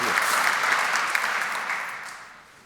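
An audience applauds in a lecture hall, a dense, steady wash of clapping that holds evenly and then tapers off toward the end, with no voices over it.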